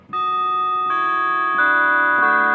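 Synthesizer imitating a 1990s Howard Miller wall clock playing its quarter-hour chime: four bright bell tones struck at an even pace, each sustaining and overlapping the next, loud and close with no voices.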